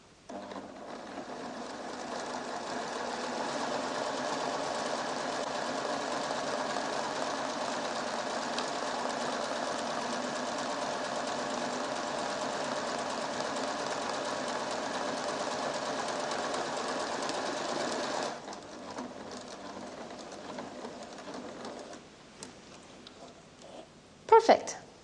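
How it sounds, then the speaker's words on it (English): PFAFF creative 1471 sewing machine stitching a buttonhole bar tack, a faint, steady whirring hum of rapid stitching that runs for a long stretch, then stops, followed by quieter handling sounds. "I will press this key again, and the machine will sew the last bar tack"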